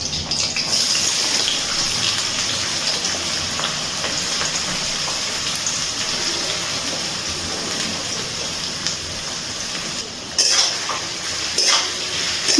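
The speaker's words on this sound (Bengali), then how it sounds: "এবার এর মধ্যে দিয়ে দিচ্ছি কেটে রাখা পেঁয়াজ।" Chopped onions, two large ones, sizzling in hot oil for a mutton curry, a steady broadband frying hiss running throughout with occasional stirring scrapes and a brief louder burst near the end.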